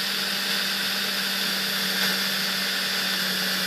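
A drill bores holes into a coated rosin press plate, giving a continuous, loud, steady high whine that holds without pause throughout.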